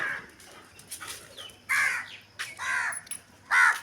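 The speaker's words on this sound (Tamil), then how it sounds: "அந்த அளவுக்கு நிறைய காக்கா வந்திருக்கு" Several crows cawing outdoors, a string of harsh, loud caws in uneven bursts, some overlapping, close by with no talk.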